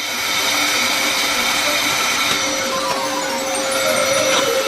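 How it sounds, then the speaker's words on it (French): A hair dryer blows steadily on a chocolate iPhone, a loud continuous whooshing airflow with a motor whine that holds for the whole stretch without pause. "Un sèche-cheveux ordinaire nous aidera."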